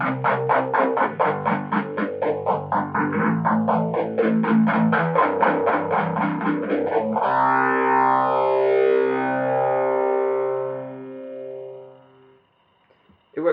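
Electric guitar through an EHX Small Stone Nano phaser and a Proco Rat distortion on the bridge pickup, crunchy strummed chords with a slow sweeping phase swell, then a sustained chord ringing out and fading to silence.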